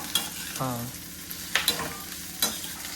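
Mutton roasts in a hot pan for Sunday cooking, sizzling steadily while a spoon scrapes and clacks against the pan in a few quick stirring strokes.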